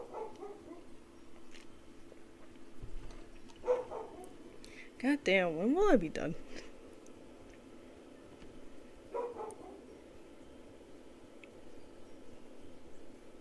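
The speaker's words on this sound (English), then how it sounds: "Why would the dog start barking?" A dog gives a few short barks and a whimpering yelp across a quiet stretch while a person speaks near the middle.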